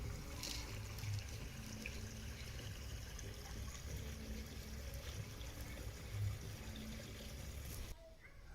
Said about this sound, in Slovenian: tle teče voda